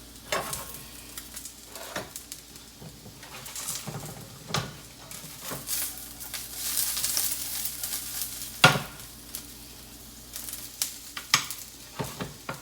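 Onions cooking in a pan over high heat give a quiet, steady sizzle, broken by scattered sharp clicks and scrapes of a utensil turning them, with no talk.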